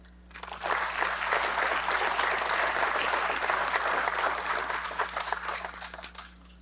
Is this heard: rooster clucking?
no